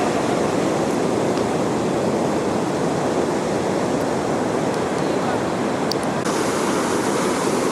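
Surf at Calangute Beach in Goa fills the scene as a dense, unbroken roar of waves, loud and continuous, with wind buffeting the microphone.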